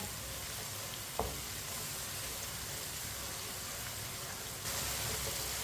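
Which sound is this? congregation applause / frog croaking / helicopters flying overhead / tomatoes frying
tomatoes frying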